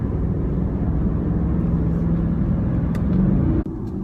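A Jeep Grand Cherokee SRT8 roars under full throttle from inside, a loud, heavy low rumble holding steady and swelling slightly before dropping off abruptly near the end.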